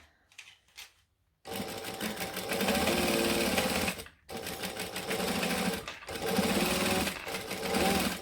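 Sewing machine stitching a seam on a fabric bag, running in steady loud bursts with brief pauses between runs, close and alone with no talk.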